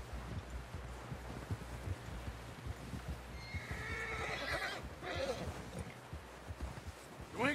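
A horse neighs loudly in a Red Dead Redemption 2 game scene, one long whinny rising over steady hoof clip-clops and rustling outdoor ambience, with voices talking around it.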